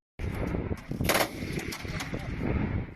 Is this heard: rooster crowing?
no